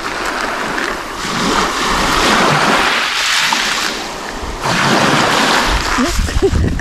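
Waves of the Sea of Azov roll onto the shore at Dolzhanskaya, Krasnodar region. Loud surges of surf rise and fall in broad washes under gusty wind, with brief splashes close by.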